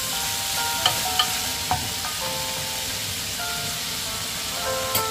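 Bitter melon sizzles as it is stir-fried over high heat in a pan with fish sauce, salt and pepper, with steady frying hiss and several short clinks and scrapes of a utensil against the pan.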